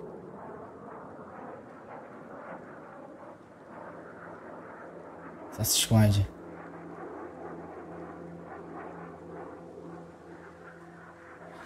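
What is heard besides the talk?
airplane approaching in a video game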